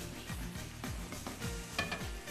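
Food browning in a pan on a home stove while a Turkish jelly fruit pudding is being made, with soft sizzling and the scrape and clink of stirring at close range.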